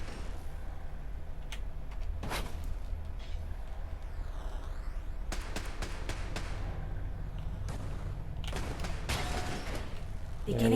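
A repurposed sentry turret in Fallout 4's Far Harbor fires bursts of gunfire, with clusters of sharp shots and mechanical clatter over a constant low hum of background tone.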